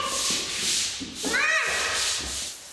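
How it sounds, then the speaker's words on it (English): Acid scrub brush worked across a concrete shop floor to spread etch, close repeated rough scrubbing strokes in an even back-and-forth rhythm, alone without talk. "I'll work the surface with an acid scrub brush"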